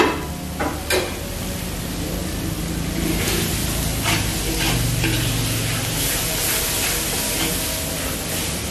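Galangal stir-fried for Padang-style beef rendang, a steady sizzle and frying hiss running throughout with occasional scraping stir strokes, fairly loud and close, with no talking.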